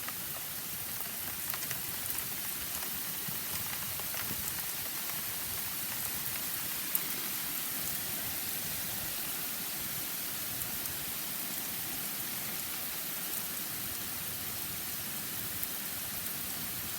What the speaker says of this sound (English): Right now it's only rain.